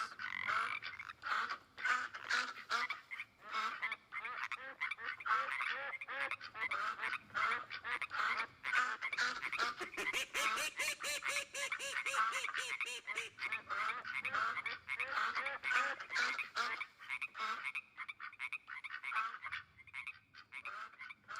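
A loud outdoor chorus of croaking frogs mixed with honking, quacking ducks fills the air in dense, overlapping pulses, continuous and busy throughout.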